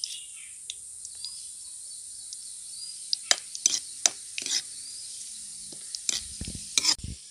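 Red chillies, cumin and asafoetida hit hot oil for a tempering, giving a faint steady sizzle broken by sharp crackles and pops and a few stirring clinks, close by.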